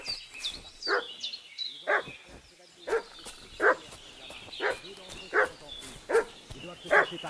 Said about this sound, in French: Pourquoi ce chien fait-il tout ce raffut?